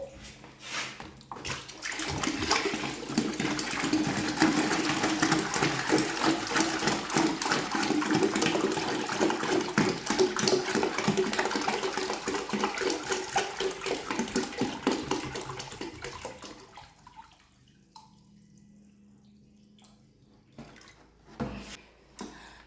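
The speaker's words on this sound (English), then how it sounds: "So now we're done adding water." Water pours steadily from a tap into a bucket while a car wash shampoo is being mixed, a loud continuous splashing rush for about fifteen seconds that stops abruptly, leaving quiet with a few small clunks.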